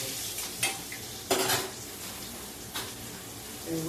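Green tomatoes frying in hot, smoking oil with a steady sizzle while a spoon stirs and scrapes the pan, giving a few sharp metallic clinks and scrapes close up over the continuous frying hiss.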